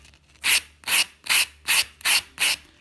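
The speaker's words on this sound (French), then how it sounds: "donc là je prends l'autre lime pour casser en fait ces rebords et pas vous couper" A nail file rasps over the edges of nail capsules in six even, close strokes, each a bright scratchy burst with brief pauses between and no talk.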